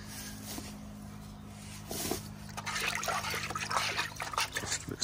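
Liquid holding bicarb soda, used to treat Andamooka matrix opal, being stirred up close, with soft trickling and sloshing that builds toward the end.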